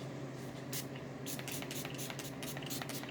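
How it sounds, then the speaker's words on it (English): Several short hissing bursts of makeup setting spray, close by, repeated in quick succession over a faint background. "Little setting spray."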